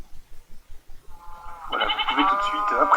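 Goats bleat in the Minecraft video game, several wavering, harmonic calls rising from about halfway through and overlapping loudly. Footsteps or soft tapping come before them, and the bleats continue to the end.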